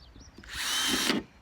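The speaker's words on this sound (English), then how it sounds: "nice sharp drill bit, you don't even need to change direction" A power drill with a sharp bit bores a drainage hole through a plastic planter, a short loud burst of whirring and grinding lasting under a second, close up, with brief quiet before and after.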